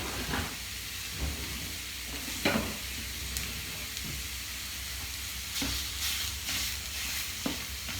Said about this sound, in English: I'll show you how I cook taco meat